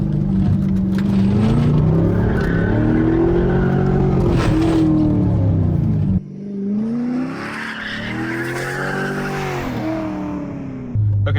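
A C5 Corvette driven hard with traction control fully off, its engine revving loudly and rising and falling in pitch while the tires squeal through the slide, with a brief drop before the engine climbs again.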